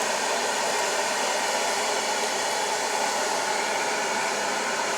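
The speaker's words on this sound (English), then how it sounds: "I'm going to blow dry that section, blow dry the root, pull down on it" A hair dryer runs in a steady, close, continuous whoosh while drying a section of hair at the roots.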